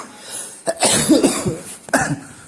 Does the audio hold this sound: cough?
yes